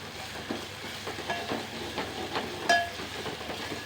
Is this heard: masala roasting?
yes